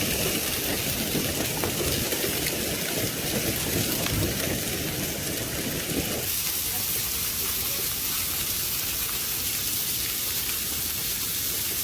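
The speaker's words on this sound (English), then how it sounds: "bringing large hail, heavy rain, and damaging winds." Heavy rain pours steadily during a severe hailstorm in Alabama, a dense, loud rushing wash with rumbling, low-frequency weight that eases somewhat partway through.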